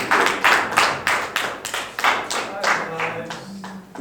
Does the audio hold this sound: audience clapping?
yes